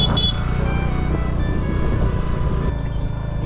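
Car driving along a road near Ratnagiri, a steady close engine and road rumble filling the cabin without pause.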